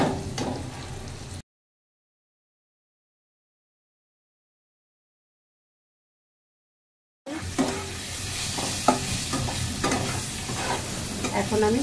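Okra and potato frying in a pan, a loud close sizzle with stirring scrapes, cut off by a long silent gap before the frying resumes more intensely.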